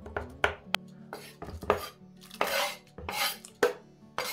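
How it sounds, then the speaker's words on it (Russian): A knife chops leftover tomato pulp for chakhokhbili cooked in a cauldron over a campfire, with irregular sharp knocks against a board mixed with clinks of dishes and utensils, close and fairly quiet. "Оставшуюся мякоть как следует измельчу и также отправлю в миску."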